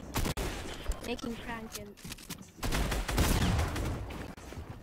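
Rapid bursts of gunfire from a firefight in Fortnite, loud clustered shots crackling under and between excited voices of players talking.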